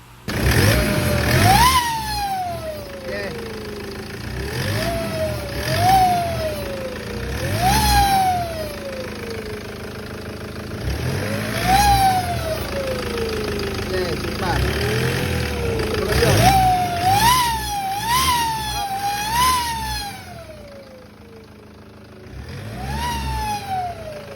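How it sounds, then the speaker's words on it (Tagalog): A Toyota Hilux engine with a faulty, noisy turbo revs up several times nearby, a loud turbo whine climbing and dropping with each burst of throttle. "i-check po natin ito mga boss kasi maingay ang turbo"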